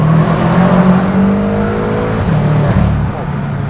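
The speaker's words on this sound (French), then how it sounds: "C'est quoi le bruit d'admission qu'on entend là?" A BMW M5 F10 accelerates, its engine and intake drone holding loud and steady with rising harmonic tones for a few seconds before easing off, with voices talking over it.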